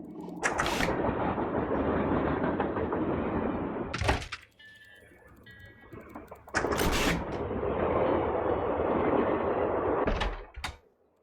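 A train in the Nancy Drew video game rolls along its rails with a loud, continuous rumble, breaks off into a quieter pause, then resumes, punctuated by sharp metallic thuds and clanks.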